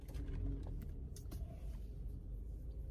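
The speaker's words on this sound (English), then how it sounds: "There's a lot of traffic." Heavy road traffic rolls past in a steady, loud low rumble of car and vehicle engines that stays constant throughout, with no talking.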